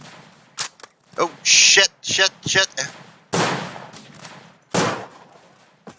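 Several sharp gunshots from a revolver in the World War I shooter Tannenberg, loud and spaced irregularly with brief gaps, with someone speaking between the shots.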